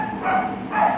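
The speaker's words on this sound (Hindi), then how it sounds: "कुत्ता भौंक रहा" A dog barks twice from somewhere nearby but off to the side, two short yappy barks in quick succession with no talking.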